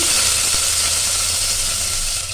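Onion sizzles in hot ghee with bay leaf, cinnamon, star anise, cardamom and cloves, a loud, steady hiss of frying that fills the whole stretch with no talk.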